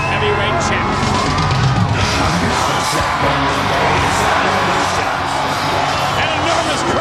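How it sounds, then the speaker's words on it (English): Wrestling crowd at a 2002 World Wrestling All-Stars pay-per-view, a loud, constant roar of cheering, whoops and yelling that fills the arena, with a commentator talking over it. "An enormous crowd reaction."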